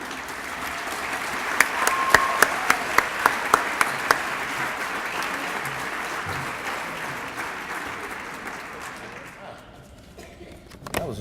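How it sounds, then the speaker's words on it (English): Audience applause at a high school academic achievers ceremony, sustained crowd clapping with a few sharp nearby claps early on, fading out toward the end. "And let's give one more round of applause to those juniors."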